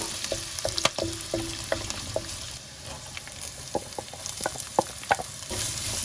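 Ginger and curry leaves crackle and sizzle in hot oil for a fish curry, a steady close frying hiss broken by sharp pops and spits throughout.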